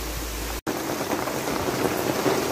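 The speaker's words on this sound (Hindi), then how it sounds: "बारिश रुकने का नाम नहीं ले रही है काफ़ी तेज़ पानी आ रहा है" Steady, heavy rain pours down in a dense continuous hiss, briefly cut by a short gap near the start, with no voices.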